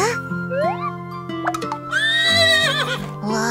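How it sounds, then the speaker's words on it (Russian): Cartoon horses neigh as they walk into their new stable, with loud, rising whinnies over a steady musical backing, close and clear with no talking. "Лошадки заходят в свой новый домик."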